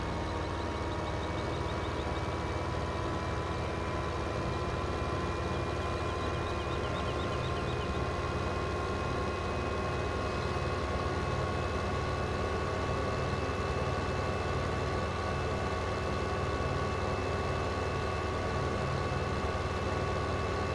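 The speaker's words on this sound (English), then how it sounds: "These tractors are so quiet." A tractor engine in the video game Farming Simulator 15 drones steadily and evenly for the whole stretch, with a low rumble and a faint whine on top and no pauses.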